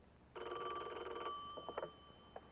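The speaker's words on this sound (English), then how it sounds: "So the next time your phone rings" An office telephone bell rings once in a single buzzing, metallic burst of about a second, followed by a few faint clicks, heard in a quiet room on an old 1972 office training recording.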